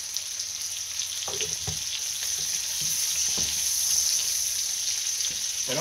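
Chicken and vegetables brown in butter in a pan with a steady close sizzle, and a utensil scrapes and stirs now and then across the bottom.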